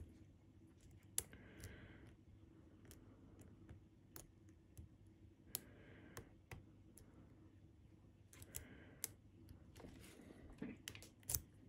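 A lock is picked with thin picks under light tension, sparse sharp metallic clicks scattered irregularly over faint tool scraping in a quiet room.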